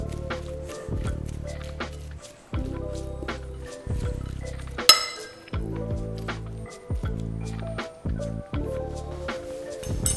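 Red cabbage is stirred in a cooking pot with repeated wet, squishing scrapes and light clinks, close and steady with brief pauses between strokes.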